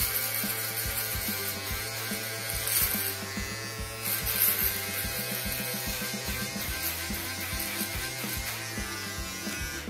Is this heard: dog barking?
no